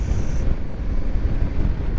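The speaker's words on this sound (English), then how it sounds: "It's a bit windy right enough" Wind gusts across an open road along the Newton Stewart to Maybole route, a loud, low, buffeting rumble against the microphone that persists steadily throughout with no voices.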